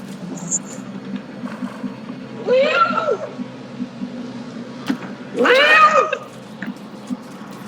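Two drawn-out meows about three seconds apart over a low steady hum, loud and close, likely a person imitating a cat to talk to a pet cat.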